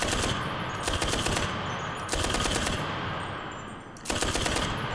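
Rifle gunfire from the video game Enlisted comes in rapid bursts of close, loud shots, with short pauses between volleys.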